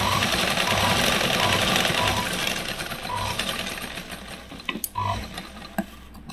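A sewing machine stitching katori blouse fabric runs with a fast, steady mechanical whir and rattle, then stops and is followed by a few sharp clicks and handling knocks, close by.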